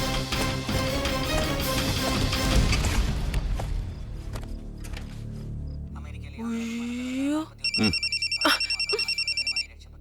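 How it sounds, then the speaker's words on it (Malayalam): A busy, loud stretch of noise and music gives way to a telephone ringing near and clear in rapid repeated electronic bursts. "ഫോൺ എടുക്ക്."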